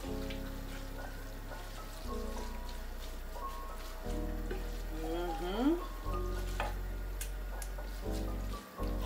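Macaroni and cheese cooks over a low flame with a steady soft sizzle and bubbling, broken by a few stirring scrapes, continuous and fairly close with no talking.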